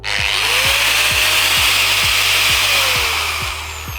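A Procraft angle grinder starts up and runs loudly with a high whine and steady rhythmic thumping, close by, easing slightly toward the end.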